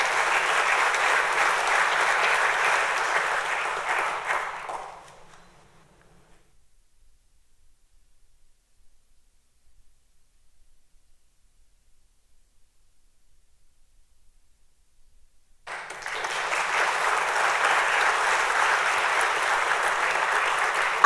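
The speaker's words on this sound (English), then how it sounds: "I know we're clapping already" Steady applause from an audience at a police badge pinning ceremony fills the room, stops for about ten seconds of near silence, then resumes just as strongly.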